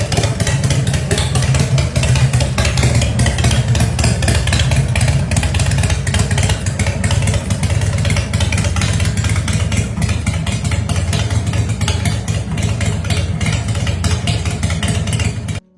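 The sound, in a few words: 2006 Arlen Ness Lowliner motorcycle, S&S V-twin engine running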